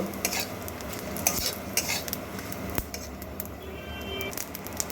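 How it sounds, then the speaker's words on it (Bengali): Whole cumin seeds fry in a little oil in a kadai while being turned over with a metal spoon, for a tangra fish recipe. A faint, close sizzle sits under frequent sharp scrapes and clinks of stirring. "গোটা জিরে সাদা জিরে এগুলো একটু এই হালকা তেলের মধ্যেই এপিট ওপিট করে খুব ভালো করে ভেজে নেব"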